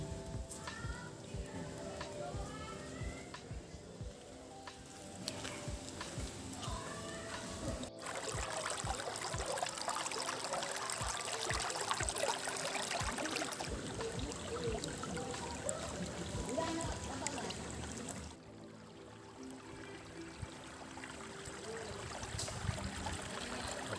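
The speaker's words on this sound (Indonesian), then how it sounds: "Oke sahabat, saya sudah nyampe di sungainya." A river in the Sonder area flows with a low, steady wash and trickle, faint and continuous, with a few small splashes and knocks.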